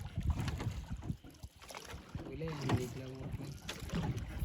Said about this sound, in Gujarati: કાકા ચલાવે છે બોટ